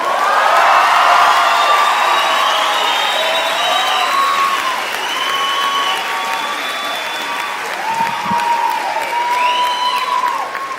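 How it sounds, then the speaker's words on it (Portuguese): A theatre crowd breaks into loud, sustained applause and cheering to welcome comedian Fábio Rabin onstage, with whoops and shouts rising over the dense clapping that stays strong throughout. "Recebam com uma salva de palmas,"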